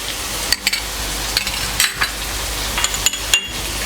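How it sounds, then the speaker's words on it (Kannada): Onions frying in a pan for tawa pulao, a steady hiss of sizzling with scraping stir strokes and a few light clinks of a spoon against the pan, close and continuous with no talk. "ಚೆನ್ನಾಗಿ ಫ್ರೈ ಮಾಡ್ಕೊಳ್ಳೋಣ"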